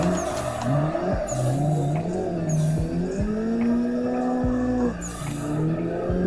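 Race car engine in the Assetto Corsa video game lapping the Bahoku long course, revving hard through gear shifts with rising and falling pitch and repeated tire squeal, loud and steady throughout.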